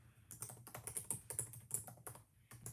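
Fingers type on a computer keyboard in quick, uneven bursts of close, crisp key clicks, with short pauses between runs of keystrokes and no voices.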